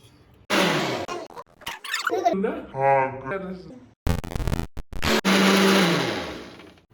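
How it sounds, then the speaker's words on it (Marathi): A mixer grinder whirs in short bursts grinding browned ingredients for tomato soup, its motor pitch rising and falling between runs, with clinks and a brief spoken voice in between. "हे सर्व साहित्य आपण मध्ये छान बारीक करून घेऊ"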